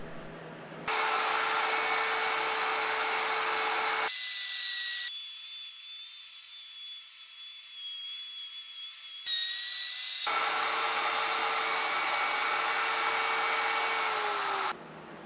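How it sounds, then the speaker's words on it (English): A wood router runs continuously with a high whine while cutting a circle with a circle cutting jig, its tone shifting as the load changes and then settling back, with no speech. "I adjust the router between each pass."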